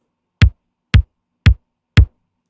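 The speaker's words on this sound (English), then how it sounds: "For our kick, we're going to need 4 quarter notes," Four evenly spaced kick drum hits thump at a steady quarter-note pulse, each one deep, punchy and short, with silence in between.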